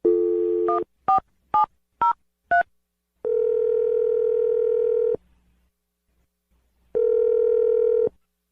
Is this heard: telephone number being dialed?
yes